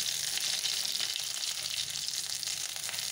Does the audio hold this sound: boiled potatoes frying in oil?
yes